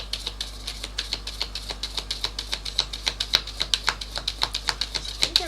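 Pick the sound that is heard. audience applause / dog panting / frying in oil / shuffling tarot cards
shuffling tarot cards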